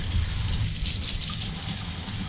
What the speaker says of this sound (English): we're going to go ahead and start running the water